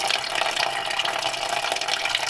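Water gushes steadily out of an old flathead engine block as it drains, a continuous, fairly loud splashing rush that stays even throughout, with no voices.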